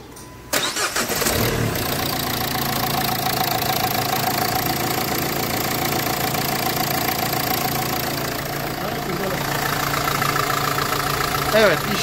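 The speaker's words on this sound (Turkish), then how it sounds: "Çalıştır aracı." Renault Fluence engine cranks and catches about half a second in, then settles into a steady, close idle that runs on evenly, with a faint knock and a slight surge near the end.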